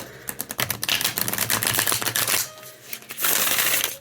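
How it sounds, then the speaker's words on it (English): Tarot cards being shuffled and riffled up close, quick crisp flutters and snaps in bursts, with a short pause before another shuffle. "I shuffle with a lot of decks"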